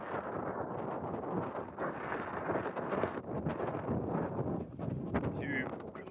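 Strong wind buffets the microphone along a coastal footpath, loud irregular gusts roaring and rumbling throughout with brief lulls between blasts.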